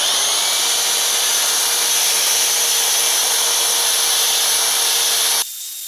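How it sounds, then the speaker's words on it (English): A cup-shaped wire brush on a power tool scrubs a Coleman RoadTrip grill, a loud, harsh, continuous high-pitched grinding hiss close up that cuts off abruptly near the end. "let's see what we can do with a little cup-shaped wire brush on this thing."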